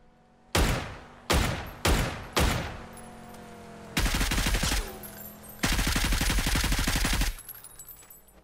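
Gunfire in the PUBG battle royale game: four separate loud single shots in a row, then two longer sustained bursts of rapid automatic fire, no talking.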